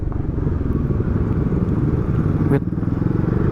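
A secondhand Yamaha Xmax scooter, nearly a year in use, idling close by with a steady low, throbbing engine rumble and a faint tick from the motor.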